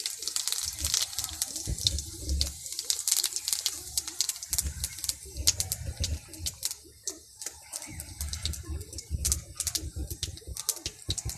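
Whole cumin seeds sizzle and crackle in hot oil for a tempering, scattered pops over a hissy wash. A voice speaks intermittently and birds coo faintly in the background.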